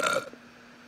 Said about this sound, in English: It's a burp sound.